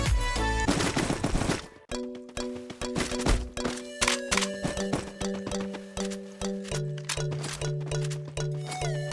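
Rapid bursts of gunfire ring out in a shooter video game, a dense rattling volley followed by repeated evenly spaced shots over sustained synthetic game tones.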